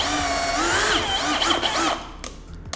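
A Bosch GSB 185-LI cordless drill whirs as its speed trigger is squeezed, the motor pitch rising and sweeping up and down, then winding down to a stop with a few clicks.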